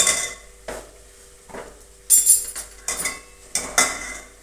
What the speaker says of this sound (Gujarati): જો ટામેટાનું મરચાં આપણે નાખી દીધા છે અને આપણે હલાવી લઈશું